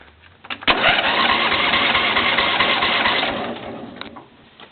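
A John Deere L120 lawn tractor engine cranks on a cold start with a weak battery: a steady, close, mechanical churning that runs for about three and a half seconds without catching, then stops.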